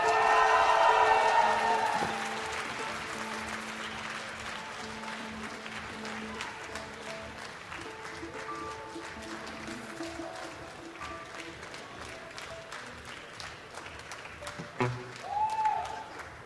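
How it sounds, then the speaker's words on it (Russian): Concert audience applause at a jubilee concert, a brief loud burst that quickly fades into quiet murmuring and faint scattered sounds. "Ваши аплодисменты."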